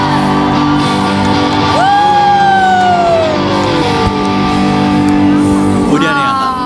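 A crowd of choir members shouting together in a loud, sustained group yell at a rehearsal, rising in a long cheer with a second burst of whooping near the end.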